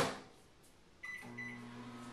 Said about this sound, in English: we stick it in the microwave for about 2 minutes